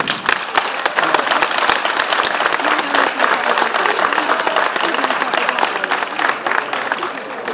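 An audience at a 2014 town festival proclamation in Algimia de Almonacid, Spain, bursts into loud, sustained applause, with dense clapping that continues evenly from start to finish.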